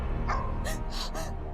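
Dogs yipping and barking in a few quick, sharp bursts, fairly close, over a low steady background hum.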